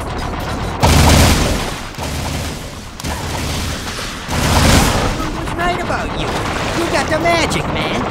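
Gunfire in the Jak II video game, broadband bursts of shooting and booms layered over a busy game soundscape, with voices talking through much of it.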